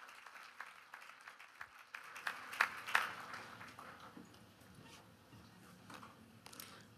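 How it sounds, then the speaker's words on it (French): Audience at a clean-energy and reconciliation panel applauding the panelists, scattered claps thickening into steady applause with a few sharp louder claps near the middle, then tapering off. "On applaudit nos panélistes."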